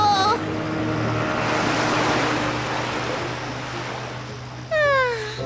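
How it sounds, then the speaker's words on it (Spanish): Foamy waves lap continuously against an island shore in the Paraná River delta, a steady broad wash of surf, with brief whistling, sliding tones at the start and end. "Bellas olas espumantes acarician las orillas de mi isla."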